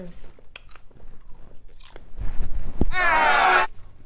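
Popcorn being eaten at home, a loud crunchy bite followed by a burst of close crisp chewing, with a short spoken remark just before.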